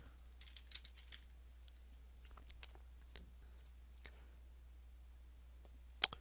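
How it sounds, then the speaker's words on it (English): Someone types on a computer keyboard, entering a place name into a map search field. The keystrokes are faint and sparse, a scattered series of light clicks with one sharper tap near the end, in a quiet room. "And I'm just going to type in ACC Northridge."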